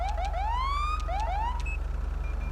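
A police car siren in GTA V wails in rising and falling yelps over a steady low engine hum, loud and close with no talking.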